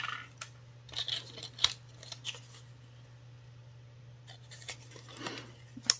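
Scissors snip through material while flowers are being made, with a few quiet, sharp cuts spaced irregularly over a faint steady hum.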